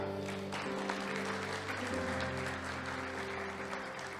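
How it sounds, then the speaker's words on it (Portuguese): A church congregation applauds during a celebration service, a soft wash of many clapping hands layered over sustained music tones, moderately distant and continuous. "aplaude ao Senhor"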